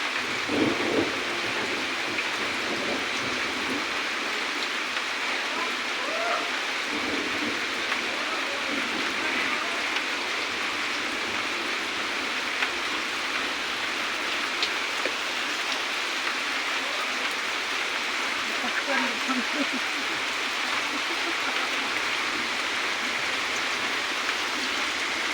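Heavy, steady rain pours down during a flood, a dense unbroken roar with low thunder rumbling underneath throughout, and a voice speaks faintly at times.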